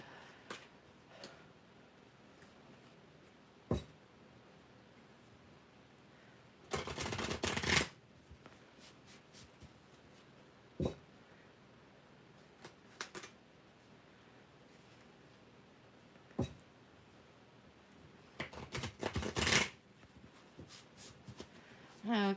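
A stiff, little-used tarot card deck is shuffled in a few short bursts of riffling and rustling, with quieter handling sounds and ticks between them, close and soft.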